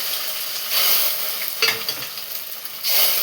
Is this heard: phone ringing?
no